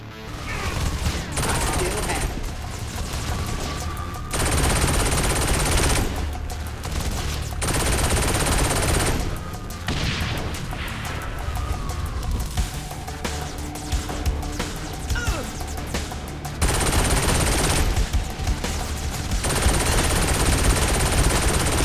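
Rapid automatic gunfire from a weapon in the video game Saints Row IV comes in long, loud bursts separated by short gaps. Ambient game noise fills the pauses.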